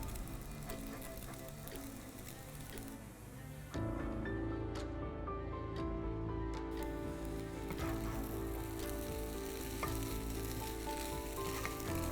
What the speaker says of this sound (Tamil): இது மட்டும் கொஞ்சம் பொறுமையாக கிளறி விடுங்க